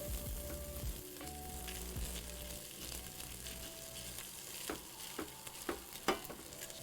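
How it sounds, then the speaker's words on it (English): Rice toasting in a pan on a stove top gives a steady sizzle and crackle, with scraping stirs and a few clinks of a utensil against the pan near the end, and no voices. "now we know that we're toasting the rice when it starts to go"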